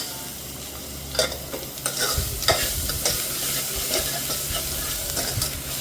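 Tomatoes fry in a pot for chicken pulao, a steady sizzle under the repeated scraping knocks of a spoon stirring them, with no talking.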